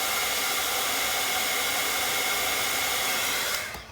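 A heat tool blows a steady, close whoosh of hot air while melting embossing powder on a stamped art journal page, and it stops near the end.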